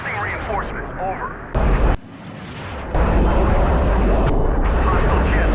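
Jet engine roar fills a Battlefield 2 battle on Dragon Valley, a steady loud rumble with abrupt cuts and a louder sustained surge in the second half, under game radio voices.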